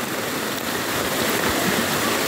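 A swollen, flooded river rushes by in a continuous, loud roar of churning water, with no voices over it.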